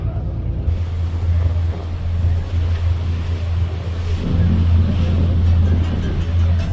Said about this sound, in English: We're on the boat, it's a little narrow, but we'll get on here, and we're away, setting off now.